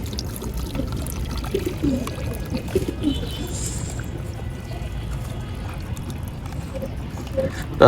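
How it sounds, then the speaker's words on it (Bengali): Water poured while changing the drinking water in a pigeon loft, a steady low splashing trickle that runs throughout over a dense rumbling background. "পানিটা পরিবর্তন করি।"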